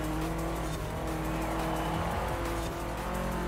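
A car slides on snow in Forza Horizon 4, its engine droning steadily under a continuous hiss of tires losing grip. The sound is close and fairly loud throughout, with no one talking.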